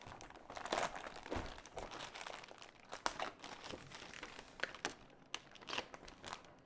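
Plastic packaging around an aluminum metal print crinkles and crackles close up during unboxing, in quiet, irregular bursts with no talking.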